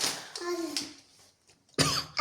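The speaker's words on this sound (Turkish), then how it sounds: "Hep öksürüyorum" A few sharp coughs from a sick elderly woman, close and fairly loud, separated by short pauses.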